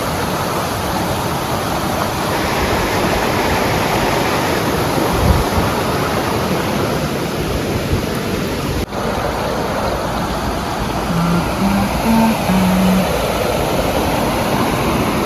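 A strongly flowing Indian river swollen after rain makes a loud, close, continuous broadband rush of churning water. The roar holds steady throughout, with no talking.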